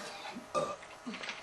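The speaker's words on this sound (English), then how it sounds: "learn how to burp" A girl lets out a loud, brief burp at close range, with faint breathy vocal sounds around it.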